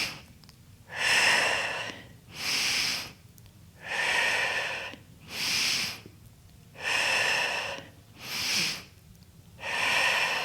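Steady cycle of loud, close breaths during a Pilates abdominal sequence at the barre, seven audible inhales and exhales alternating in an even rhythm of about one every 1.5 seconds, with no talking.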